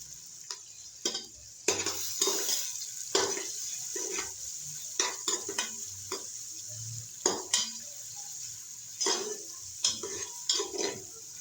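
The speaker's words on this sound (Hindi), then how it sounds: "ये गरम हो गया तो अब हम इसमें डालेंगे 1 अदद प्याज और इसको करेंगे लाइट ब्राउन।" Onion frying in hot ghee inside a pressure cooker, a steady high sizzle broken by repeated sharp scrapes and clinks of a spoon stirring against the metal, close and fairly quiet, no talking.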